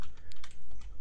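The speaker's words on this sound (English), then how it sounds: "holding the control key and pressing the letter F one time and in typing the course ID" Quick keystrokes on a computer keyboard as a course ID is typed: a handful of close, crisp clicks in an irregular burst, with no talking.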